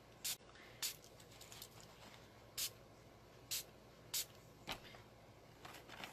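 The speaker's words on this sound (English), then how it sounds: "and then I just sprayed" About seven short, soft hissing spritzes from a spray bottle misting alcohol ink during a Stampin' Up card-making project, spaced irregularly against a quiet room background.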